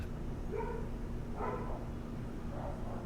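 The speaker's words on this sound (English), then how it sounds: "sorry about the dogs barking" Dogs bark in the distance, three short muffled barks spaced about a second apart over a steady background hum, faint and with no talking.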